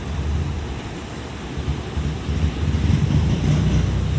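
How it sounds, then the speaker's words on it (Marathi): A swollen, flooded river crashes hard against stone steps by a riverside Ganpati temple, a loud continuous low roar and surge with heavy wind-like rumble that grows stronger toward the end; no voices. "कडाच्या पायरीला मस्त पाणी एकदम जोरात आपटतं"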